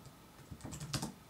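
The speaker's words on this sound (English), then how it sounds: "typing it in." A message is typed on a computer keyboard as a quick, faint burst of soft key clicks, with no voice over it.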